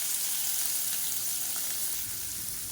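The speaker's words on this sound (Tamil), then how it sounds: "இப்போ எண்ணெய் சூடாயிருச்சு. கடுகு, சீரகம், வெந்தயம், உளுந்து சேர்த்துக்கலாம்." Mustard seeds, cumin, fenugreek, urad dal, curry leaves and chopped onion sizzle in hot oil for a Tamil-style dish, a steady close hiss with faint pops throughout and no voices.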